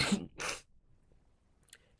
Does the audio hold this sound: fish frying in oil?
no